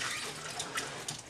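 Water pours steadily from a tap or container into a casserole pot while preparing a bacon, beef, cheese and kidney bean chili, a short, close splashing gush.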